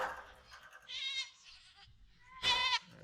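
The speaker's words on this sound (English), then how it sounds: "So goat stampede out here." Goats bleat on a large goat farm as the herd stampedes, several loud wavering bleats rising above a low shuffling of hooves, with quiet gaps between calls.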